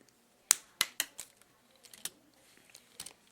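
Flush cutters snip head pin wire for a paper bead dangle, giving a few sharp, close clicks near the start followed by fainter small clicks and handling taps in a quiet room.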